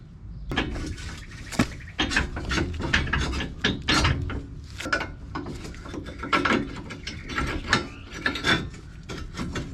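Hand ratchet tightening lift kit control arm bolts on a 2020 RAM 1500 in a driveway, heard as loud, close bursts of rapid clicking pawl strokes in irregular runs, with no speech.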